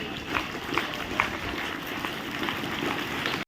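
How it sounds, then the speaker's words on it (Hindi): Children clap loudly in a steady, dense wave of applause at a gathering, a continuous crackling patter that holds level for a few seconds before cutting off abruptly. "जोरदार ताली"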